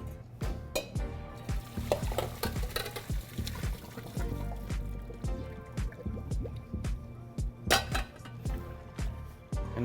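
Boiled potatoes draining in a pot, with water splashing, dripping and trickling away over about ten seconds alongside a few soft knocks and squishes, no talking.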